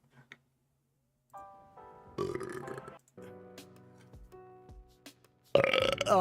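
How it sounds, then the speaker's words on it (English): A series of drawn-out, tonal burps comes close to the microphone, several in a row with short pauses between them, ending in a louder, rougher belch. "Oh, I need a burp."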